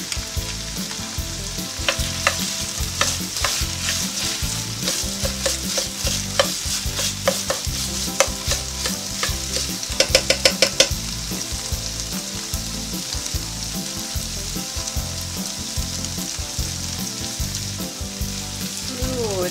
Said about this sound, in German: ich mache jetzt das Tomatenmark rein und röste das mit an